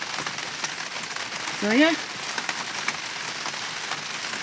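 Rain falls steadily on a Portuguese homestead during a storm, a constant soft hiss of drops, while a person speaks briefly partway through.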